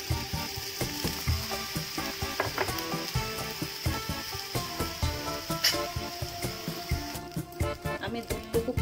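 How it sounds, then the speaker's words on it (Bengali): Milk is poured bit by bit into a hot pan for bread, producing a steady sizzle with rhythmic scraping strokes, close and fairly loud, the hiss thinning out toward the end. "অল্প অল্প করে ঢেলে পুরো দুধটুকু দিয়েই আমি ব্রেডটা বানাবো"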